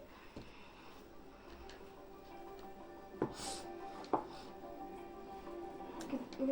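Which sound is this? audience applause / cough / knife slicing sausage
knife slicing sausage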